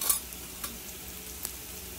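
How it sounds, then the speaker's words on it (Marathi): Green beans with garlic sautéed in a pan with spices, a soft steady sizzle broken by a few light scrapes of a spoon stirring. "आपण छान परतून घेऊया।"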